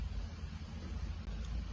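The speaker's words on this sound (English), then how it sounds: "it's pretty windy out" Wind gusts across Heck Field airfield, producing a steady low rumble of buffeting against the microphone, close and fairly loud, without talk.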